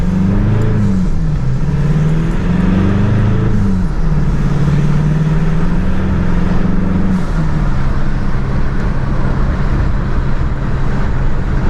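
A Cummins 2.8 diesel vehicle accelerates up through the gears on a tar road, its engine drone rising and dropping in pitch with each shift, loud and steady throughout with no talking.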